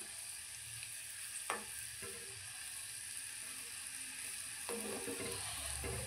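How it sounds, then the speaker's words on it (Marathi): Modak deep frying in hot oil, a soft, steady sizzle at low level with a few light clicks of a utensil stirring them, heard close and alone without speech. "छान असे गोल्डन फ्राय होईपर्यंत आपल्याला हलवून मोदक छानपैकी तळायचे आहे।"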